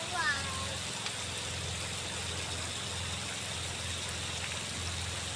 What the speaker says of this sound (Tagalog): maulan kulimlim langit